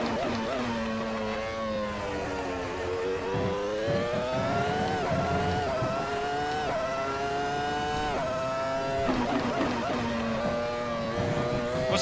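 A Formula 1 car from the MSF FW24 mod in a racing game, its high engine note rising and falling through quick gear changes, loud and continuous with speech faintly under it.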